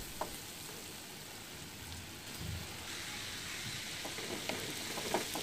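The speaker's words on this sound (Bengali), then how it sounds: "সেই তেলের মধ্যে দিয়ে দিচ্ছি পেঁয়াজ কুচি" Chopped onions fry in hot oil for a Bengali home-style dish, giving a faint, steady hiss and crackle with a few soft stirring knocks and no talking.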